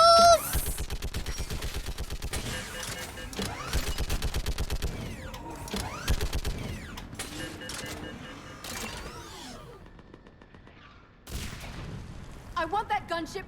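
Sustained automatic gunfire in the Mass Effect 3 video game, rapid bursts repeating across the battle with brief pauses, loud and close, under shouted voices giving orders.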